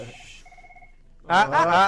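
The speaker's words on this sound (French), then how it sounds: "Le téléphone sonne." A mobile phone ringing in a room, a short electronic tone pattern heard faintly for about a second before a loud voice starts speaking over it.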